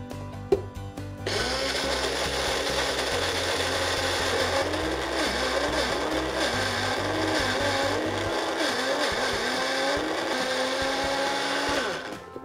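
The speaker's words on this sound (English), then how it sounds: "Now get our single serve blender." A single-serve blender whirs loudly and steadily for about ten seconds, its motor pitch shifting slightly as it runs, then cuts off at the end.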